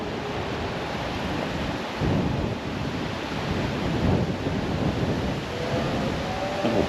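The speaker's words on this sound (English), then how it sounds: "Now it's windy. It's going to be really windy today." Strong wind buffets the microphone in a continuous roar on the Daytona Beach waterfront, with gusts swelling and easing, and surf rumbling underneath.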